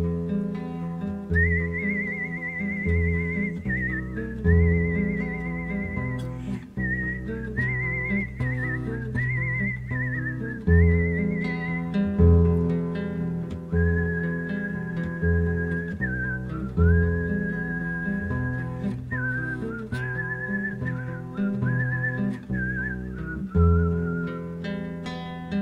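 A person whistles a lilting melody over steady instrumental accompaniment, the tune bright, clear and sustained throughout.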